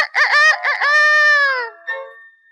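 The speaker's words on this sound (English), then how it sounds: "Mrs. Speckled Hen heard Reddy crowing." A rooster crows once, close and loud: a clear rising cock-a-doodle-doo with a long held note, then a short trailing call after a brief pause.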